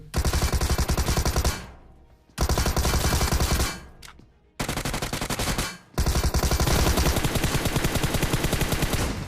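Shotgun and automatic gunfire in BGMI sound in dense, loud rapid bursts, split by three short silent gaps and with no talk.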